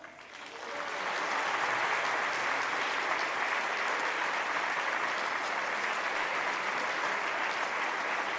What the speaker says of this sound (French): je voudrais que vous les applaudissiez très fort.